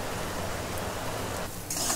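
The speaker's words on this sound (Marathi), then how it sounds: "पाऊस खूप यायला लागलाय, पावसाचा आवाज पण येत असेल." Heavy rain falls steadily outside a home kitchen, a dense, even hiss of drops that holds at a constant level throughout with no voices.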